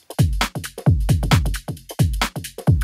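Electronic kick drum answered by tom hits in a swung call-and-response groove, punchy low thumps alternating with pitched tom strikes, repeating steadily and loud with no voices.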